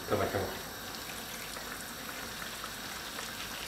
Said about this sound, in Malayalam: അതുകൊണ്ട് ഞാൻ ഇച്ചിരി വെള്ളമോട് ഒഴിക്കാം.